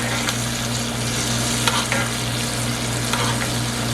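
Butter sizzles steadily in a hot pan around a pork chop, with a few soft spoon scrapes and splashes as the fat is ladled over the meat, close and continuous under a low steady hum.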